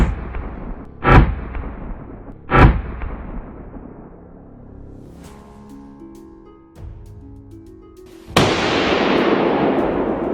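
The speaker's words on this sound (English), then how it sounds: "I raised my rifle and aimed. The moment the boar crossed my line of sight, a single, sharp shot rang out." Hunting rifle shots aimed at wild boar: two loud, sharp cracks about a second and a half apart, each ringing out as it fades. A sudden broad roaring burst follows later.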